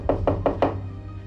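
Four firm knocks on a door in quick succession, close and loud, followed by a quiet room with a low steady hum underneath.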